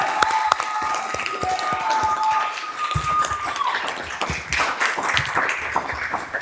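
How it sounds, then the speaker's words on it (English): An audience at a Sacramento City Unified School District meeting applauds a principal, with a dense patter of clapping from many hands filling the room, steady and moderately loud throughout, while a faint ringing tone fades out early on. "Can we give a round of applause for our principal?"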